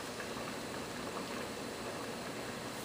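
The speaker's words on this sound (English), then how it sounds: "it is really coming to a good boil" Water at a strong boil in a pot for cooking rice, a close, continuous bubbling and hissing churn that holds steady with no talk over it.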